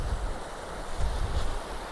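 Water runs in a stream in a rain-soaked outdoor area, a faint, steady rushing wash with low rumbling surges, heard alone.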